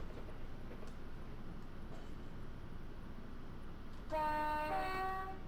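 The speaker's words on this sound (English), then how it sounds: "Here's the train coming that we're waiting for" A train rumbles along the line as it approaches, with low, steady running noise. Partway through, a horn sounds with a few bright, sustained tones.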